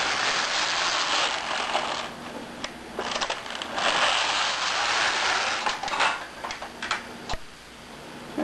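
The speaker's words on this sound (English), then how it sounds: "So we'll go ahead and do a couple rows of the fairisle, stitch pattern B." A Passap E6000 knitting machine knits rows of a fairisle stitch pattern, giving a steady, dense mechanical rushing and clattering with sharp clicks and ratchet-like ticks as the carriage makes repeated passes, close up and with no talk.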